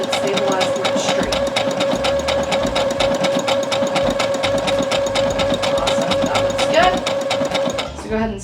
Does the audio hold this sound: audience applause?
no